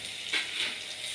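Chili powder and curry leaves fry in hot oil in a pan, a short bright sizzling hiss that swells twice as the mixture is stirred, with no voices.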